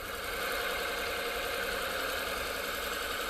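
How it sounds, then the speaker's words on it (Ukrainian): A Volvo XC60 engine runs steadily at idle without oil pressure, a constant mechanical hum with a faint rattle, close and moderately loud, with no talking. "Такий двигун, ну давайте, до речі, послухаємо на відео, як він працює"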